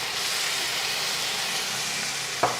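Onions sizzle steadily in a hot pan for a Rajasthani moong dal mogar as a large tomato goes in, a constant close frying hiss with one brief clunk near the end and no talking.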